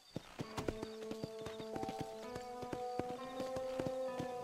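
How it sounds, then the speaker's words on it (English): A horse in Red Dead Redemption clip-clops at a quick gait, sharp hoof strikes repeating over a steady tonal game background, fairly quiet overall. "To spur a horse, tap A."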